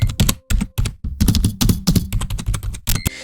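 Fast typing on a Fenifox budget mechanical RGB gaming keyboard: dense, close, loud key clacks in quick bursts with short pauses, no voices.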